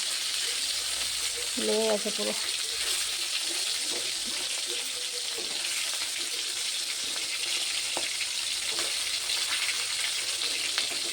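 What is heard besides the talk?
fish frying in a pan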